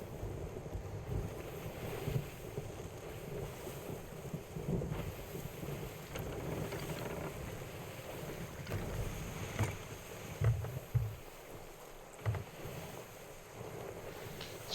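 A sea storm in the pirate game Sea of Thieves: constant roaring wind and crashing waves against a ship's hull, with deep rumbles and heavier surges swelling around the middle and later, no voices.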